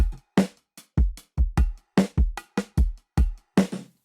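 Bongo percussion, low and high stick sounds, quantized to eighth notes and played over a drum track: sharp, dry hits in a steady, evenly spaced rhythm, each decaying quickly into silence, with no voices.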